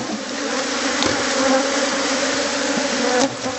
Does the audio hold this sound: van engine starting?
no